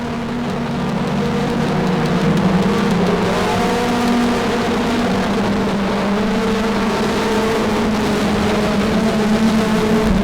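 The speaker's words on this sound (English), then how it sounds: "now a straightaway lead between himself and second place running Jay back, Kelsey back, Dustin third" Race cars roaring around the Monarch Motor Speedway dirt oval, with a loud, steady, droning engine roar from a pack of cars filling the whole stretch without letup.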